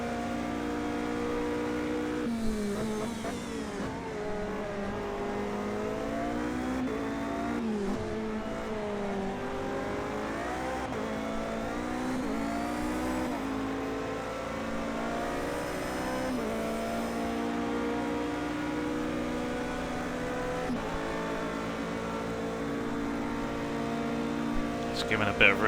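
Race car engine in an endurance racing video game at Indianapolis, a steady loud drone rising and falling in pitch as the driver gets on the throttle out of a turn, with gear changes, a voice talking over it throughout.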